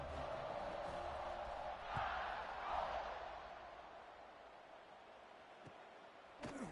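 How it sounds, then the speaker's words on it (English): A stadium crowd at a college football game keeps up a steady, distant roar that swells twice and then slowly fades, with a sharp thump near the end. "this crowd is buzzing after that last score"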